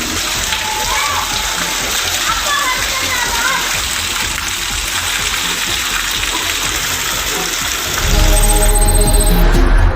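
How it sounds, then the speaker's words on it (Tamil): Heavy rain pours down steadily in Velayuthapuram, Madurai, with constant hiss and splashing water where children bathe and play in the downpour, the noise growing louder and rougher near the end. "சிறுவர்கள் கொட்டும் கனமழையில் குளித்து மகிழ்ந்தனர்"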